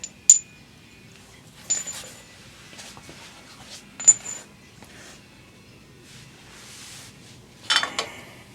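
Loose bolts for a Jeep track bar bracket clink and jingle as they are handled, a few scattered bright metallic chinks separated by quiet gaps, close by.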